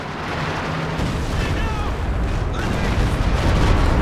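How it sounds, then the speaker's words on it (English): A walking Stuka rocket barrage strikes in a Company of Heroes 2 battle, a dense, sustained rumble of blasts that builds louder over four seconds, with a brief swooping whistle in the middle. "that was a crazy walking Stuka hit"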